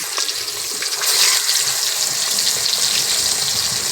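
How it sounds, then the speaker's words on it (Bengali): Pangas fish pieces fry in hot oil in a pan, giving a dense, steady hissing sizzle that swells slightly after the first second and holds evenly with no talk. "এবার একে একে মাছগুলো তেলের মধ্যে দিয়ে দেবো।"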